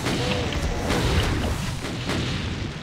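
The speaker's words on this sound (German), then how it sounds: "Nur nicht aufhören zu schießen." Heavy, dense gunfire from the FreeDoom video game, booming shots fired continuously in rapid succession with loud, sustained low rumble and no pauses.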